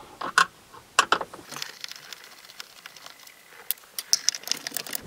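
A screwdriver works a screw loose from a car stereo bracket in a Toyota, giving quick ratcheting clicks and small metallic taps in irregular bursts, close and fairly clear.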